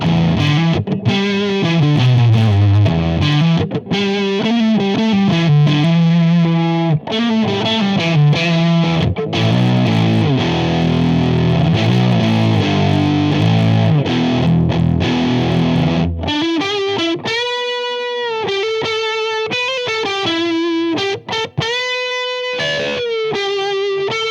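An electric guitar plays through a StewMac Hotcake overdrive pedal kit, its thick, sustained Tube Screamer-like chords and notes giving way to a sharper, more saturated Big Muff-like fuzz tone with choppy riffs.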